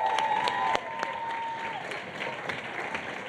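A crowd at a women's business event in Cape Town breaks into sustained applause, a steady wash of clapping with a few sharp claps and a faint tone at the start.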